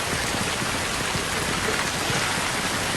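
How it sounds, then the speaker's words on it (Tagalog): Heavy rain pours steadily in a TV drama scene, a dense, even hiss with no break and no voices. "Mas mababasa kayo ng ulan."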